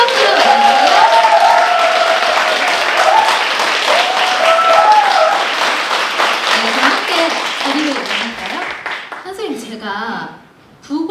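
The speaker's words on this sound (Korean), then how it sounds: "큰 박수로 맞아주세요" An audience in a hall gives loud, sustained applause as a speaker comes on stage at a storytelling talk on astronomy, with a voice speaking over the clapping until it fades near the end.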